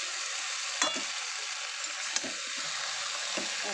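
Greens sizzle quietly in a hot pan with salt and spices while a utensil stirs them, a steady hiss broken by a few sharp scraping clinks.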